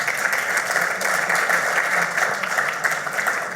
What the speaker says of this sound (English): Big hand of applause for Celia.